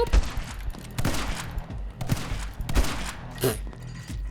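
Shotgun blasts in the video game My Friend Pedro, a rapid series of punchy bursts roughly every half second to second, loud and close.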